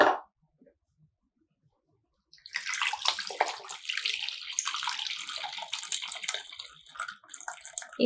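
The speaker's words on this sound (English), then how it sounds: "Okay, so now I'm going to strain" Fermented ginger pineapple tepache pours through a strainer, a steady splashing flow of liquid that begins after a quiet pause and runs on for several seconds, close and fairly loud.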